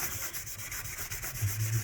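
A cloth rubbing back and forth with naphtha to clean accumulated grime off a Drake Custom M5 five-string bass guitar, a soft, close, rhythmic scrubbing with no talk.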